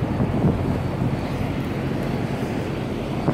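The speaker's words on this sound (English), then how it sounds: "you can feel this wind out here" Strong wind blows dust across open ground in New Mexico during a high wind advisory, buffeting the microphone with a steady, loud, roaring rumble that runs throughout.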